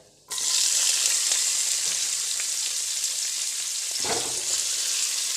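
Finely chopped onion, garlic and ginger hit hot oil with cumin, bursting into a loud sizzle that then holds as a dense, steady frying hiss with a brief stir near the end.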